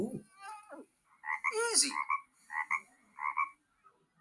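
Frogs croak in a series of loud, nasal bursts, first a rising warble and then several evenly spaced double croaks close to the listener, with one brief spoken word near the start.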